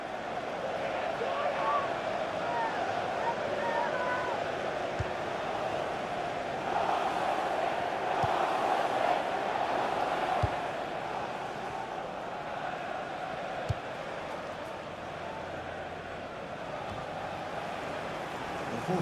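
Stadium crowd in the FIFA 17 football video game, a broad murmuring swell of fans that rises into an ooh mid-clip, with faint distant thumps and steady background noise.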